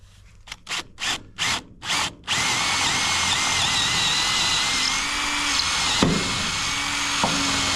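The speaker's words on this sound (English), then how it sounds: "So I'm gonna drill right here and put a bolt right here." A drill bores into a solid steel shipping container beam during barn framing: a few short trigger bursts, then a long, loud, steady grinding whine with small pitch shifts and brief clicks near the end.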